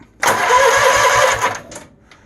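Troy-Bilt GTX 20 garden tractor engine, which has engine problems, bursting into a loud close mechanical run for about a second and a half as it engages, then cutting out.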